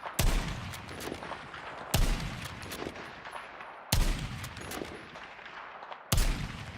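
Sniper rifle fire in a video game, four sharp, loud shots spaced about two seconds apart, each trailing off into a noisy tail before the next.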